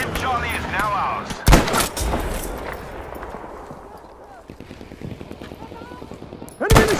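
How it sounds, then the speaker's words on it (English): Gunfire crashes in a Battlefield 2042 match as two loud, sharp bursts, one early and one at the end, over a softer rattle of shots and battlefield noise in the middle. "Enemy machine gun, right there!"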